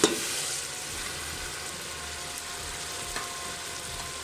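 Tomatoes tossed into a pan of frying arvi masala (taro root curry) set off a steady, close sizzle and crackle of hot oil, with a faint stirring scrape now and then.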